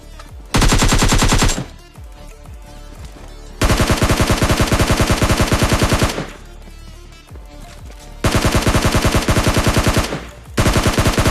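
Rapid automatic gunfire in PUBG Lite, three long loud bursts of machine-gun fire separated by short gaps of quieter shots and game ambience, no talking.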